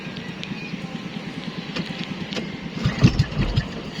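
A small boat engine sputters and chugs with an uneven low rumble as it struggles to start, surging louder near the end as it tries to catch.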